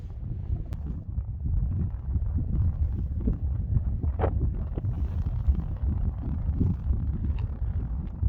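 Steady, blustery wind of about 6-7 metres per second rumbles against the microphone throughout, a dense low roar with faint gusty fluctuations and no voices.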